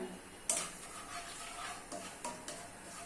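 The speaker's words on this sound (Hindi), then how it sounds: "ये सभी खड़े मसाले अभी ऑयल में ऐड कर लेना है और मिक्स कर लेना है।" Whole cinnamon, cloves, black peppercorns and cumin are stirred in hot oil in a pan for mutton keema. The sizzle is soft and faint, marked by a few light clinks of the spoon against the pan.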